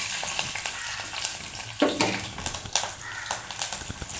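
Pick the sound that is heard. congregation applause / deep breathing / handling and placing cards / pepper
pepper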